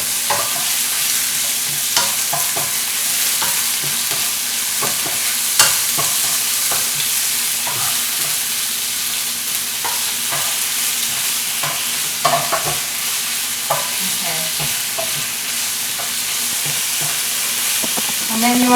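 Ingredients for pad see ew are stir-fried in a hot pan. A steady sizzle runs throughout, broken by frequent close scrapes and clatters from the stirring. Nobody speaks.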